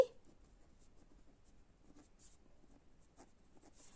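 A pen scratches out figures by hand while an accounting cash flow statement is worked through. The strokes come as faint, short scrapes and taps at a quiet, close level, with no talking.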